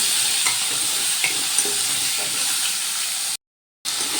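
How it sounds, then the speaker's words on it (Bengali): Potatoes with salt and turmeric fry in oil for a green jackfruit curry, producing a loud, close, continuous crackling sizzle with light stirring clicks that cuts out briefly near the end. "এবার নুন হলুদ দিয়ে আলুগুলো ভালো করে ভেজে নেব"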